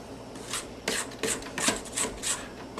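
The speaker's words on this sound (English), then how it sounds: "So we scrape the bowl" A spatula scrapes around a mixing bowl of fluffy chocolate cookie dough in several short, rough strokes, close up and fairly quiet.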